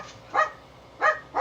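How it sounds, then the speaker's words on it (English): Dogs give three short, sharp barks, two close together and one after a pause, heard at moderate distance against a quiet background. "I don't know what they're barking at again."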